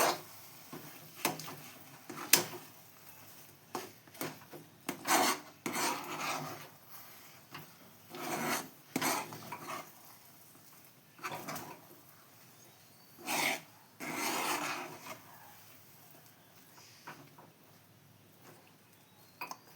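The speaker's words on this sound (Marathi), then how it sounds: "त्याच्यावरनं थोडंसं असं तूप टाकून घेऊया त्याला असं बरं मिक्स करून घेऊया" Semolina sheera being stirred with ghee in a pan, a series of uneven scraping and rubbing strokes, close and moderately quiet, with pauses between bursts.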